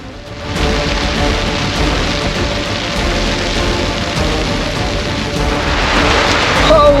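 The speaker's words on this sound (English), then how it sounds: "the rain is just pouring into the cockpit now" Heavy rain pours into the cockpit of a sailboat heeling over in wild weather, a dense, loud, unbroken hiss, close by and continuous from start to end.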